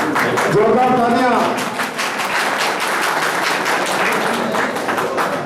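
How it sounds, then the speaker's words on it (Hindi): Loud applause from the audience at a political welcome ceremony for a BJP candidate in Jaswantgarh, with a voice talking over the start before the clapping carries on steadily as a dense wash of hands. "जोरदार तालियां।"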